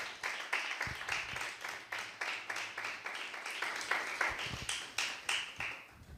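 A church congregation at an Urdu/Hindi sermon claps rhythmically in praise to God, steady repeated handclaps fairly faint and distant, with no talk over them.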